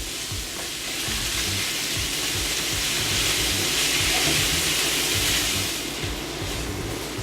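Vegetables stir-fry in a hot pan in a loud, continuous hiss and sizzle, rising slightly and then easing, with rattling and scraping from stirring throughout.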